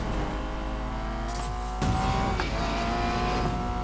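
Racing cars in Need for Speed: Payback roar continuously up close, with rising engine pitch, tire squeal and a sharper burst partway through, no talking over it.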